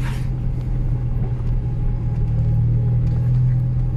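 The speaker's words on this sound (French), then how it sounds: "je suis venu avec ma petite Smart Roadster" A Smart Roadster drives with a steady, low engine rumble and road noise that stays loud and even throughout, with no voices.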